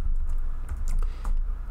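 Quick bursts of keystrokes clatter on a computer keyboard while editing a Vim configuration file, a close, rapid run of clicks.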